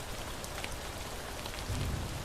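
Steady rain hisses densely and evenly across the whole stretch in a Sekiro game scene, a continuous close downpour with faint drop ticks and a slight low rumble near the end, no voices.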